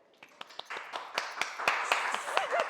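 A small group clapping at an interview show, separate sharp claps that begin sparse and quickly become quicker and denser, with a voice faintly underneath.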